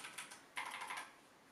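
A few quick arrow-key presses on a Corsair K100 RGB optical mechanical keyboard give crisp, close clicks, an irregular handful of taps in a quiet room.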